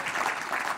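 Audience clapping in an auditorium after a conference presentation, a short burst of dense applause from a crowd at moderate distance.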